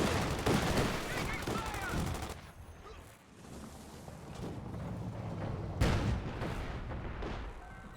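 Artillery barrage in a Company of Heroes-style World War II strategy game match, with dense, continuous rumbling explosions and overlapping gunfire. The barrage stays loud throughout, dips briefly midway, then swells again with a sharp blast.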